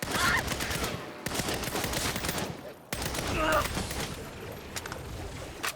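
Rapid gunfire from a shootout in Saints Row, with bursts of shots crackling through the scene while people talk over it.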